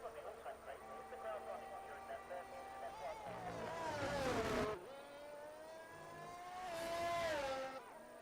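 An Aston Martin race car engine in a racing video game at Imola rises and falls in pitch through gear changes, with two swelling passes, heard under a commentator's voice.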